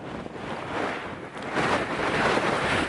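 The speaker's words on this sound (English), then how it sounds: "Oh, it's getting windy again." Gusting wind on the Pacific Crest Trail buffets the microphone with a broad rushing roar that swells louder partway through.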